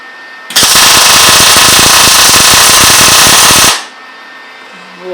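Wire-feed welder laying a bead on a post hole digger, a loud, close, rapid crackling buzz lasting about three seconds with a chattery, uneven texture, then cutting off.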